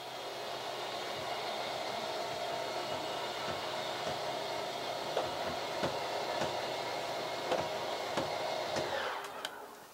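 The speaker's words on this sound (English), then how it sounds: "So hold it till that motor shuts off" A 2015 Winnebago Minnie travel trailer's slide room motor whines steadily with faint ticking clicks, then cuts off abruptly just before the end.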